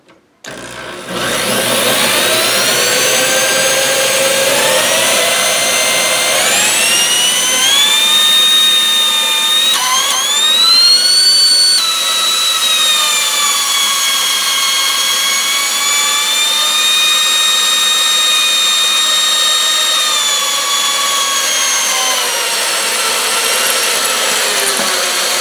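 A loud, high-pitched electric drill motor whine runs continuously at high speed, overheating and smoking, its pitch sliding up and down as the speed shifts, close and steady throughout.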